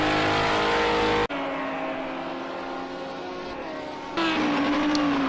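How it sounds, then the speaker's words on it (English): A GT3 race car engine at full throttle in a sim racing game, a loud, steady high-pitched roar that drops abruptly with a gear change and climbs again, ending in another sharp shift and louder revving. "flat out, keep the pedal down, let the car just go over the rise"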